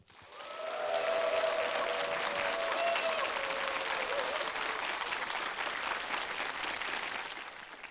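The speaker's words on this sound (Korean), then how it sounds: "연세대학교 철학과 조대호 교수님을 큰 박수로 맞아주시죠." An audience at a public philosophy lecture greets a visiting professor with warm, continuous applause that swells quickly and holds steady, while a faint tonal sound drifts beneath it early on.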